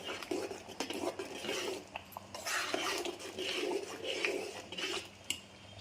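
A spoon stirs a tomato, potato and chana dal curry in a pan, giving repeated close scraping and clinking against the metal with a sizzling undertone and no talking.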